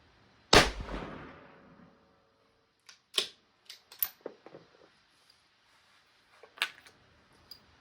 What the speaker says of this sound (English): Back, open up the bolt, push it forward, load, and I'm ready to shoot again.